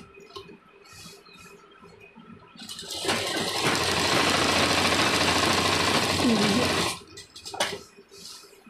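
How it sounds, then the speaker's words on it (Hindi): A sewing machine runs in one steady, loud burst of about four seconds while stitching a pocket onto a gents' kurta, with quieter handling noise before and after. "सिलाई लगा लीजिए।"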